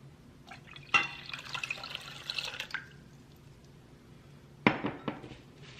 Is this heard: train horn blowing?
no